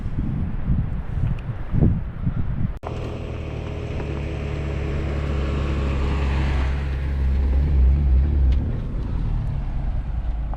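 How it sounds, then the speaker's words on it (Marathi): Cars come up from behind on a dusty mountain road in Georgia's Truso Valley, alongside the Terek River. A low engine rumble swells and holds steady under heavy wind noise, growing louder as the vehicles draw close. "2 गाड्या आल्या अजून मागून."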